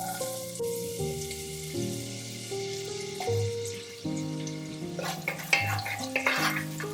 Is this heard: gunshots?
no